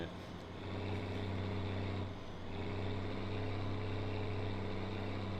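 A truck engine drones steadily in a truck driving video game, a continuous low harmonic hum with a faint turbocharger whine, quiet and even throughout, no talking.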